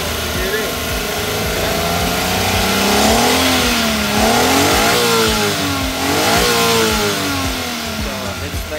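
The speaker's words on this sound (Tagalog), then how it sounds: "wala kayo nakikita nadidinig na lagatap sa low RPM" A car engine revs up and down in repeated swells, with a knocking from the number one connecting rod at low RPM, loud and close, while someone talks over it.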